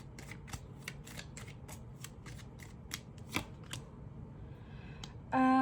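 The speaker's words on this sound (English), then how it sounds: "My cards are falling out." Playing cards slip out of a deck in a run of quick, crisp flicks and taps, fairly close and quiet, ending in a brief louder rustle.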